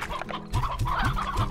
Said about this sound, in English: Okay, so let us put the chickens in here.